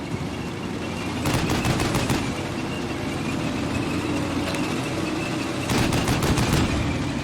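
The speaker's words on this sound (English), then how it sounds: "They're shooting inside the building there" Machine-gun fire inside a building in the Combat Mission: Cold War video game, two clear bursts of rapid automatic shots over a constant rumbling battle background, heard at some distance with no talk.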